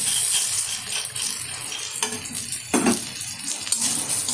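Moong dal being stir-fried with homemade masala in a pan, heard as soft scraping and stirring with occasional clinks of a utensil against metal over a faint sizzle, close up with no talking.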